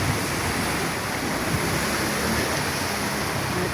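Monsoon rain floods a residential street in Bacoor, and the water makes a steady, dense rushing hiss that stays even throughout, with no one talking.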